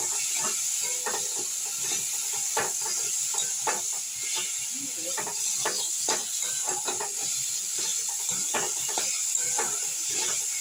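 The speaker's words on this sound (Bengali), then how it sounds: "মশলাগুলো সব দিয়ে ভাজা হয়ে গিয়েছে দেখুন।" Spices and ginger paste fry in a pan for a Bengali vegetable dal, giving a steady sizzle and hiss with frequent scraping stir strokes throughout, close and continuous with no voices.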